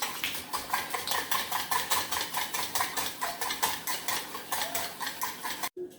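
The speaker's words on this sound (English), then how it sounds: "We got to whisk it nicely until the sugar dissolves a little bit." Whisk beating a milk mixture with sugar in a bowl, a steady fast rhythmic scraping and clinking of wire against the bowl throughout, close and clear, stopping just before the end.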